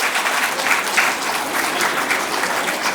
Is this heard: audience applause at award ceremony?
yes